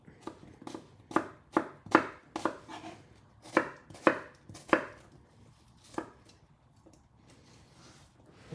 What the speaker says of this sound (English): This is called a julienne on the onion.